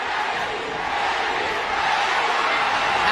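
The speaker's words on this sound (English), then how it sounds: "Pacquiao crowd chanting Manny" A large boxing crowd at a Pacquiao fight roars and chants for Manny, a loud massed wall of voices that swells slightly and continues steadily, with a commentator's voice over it.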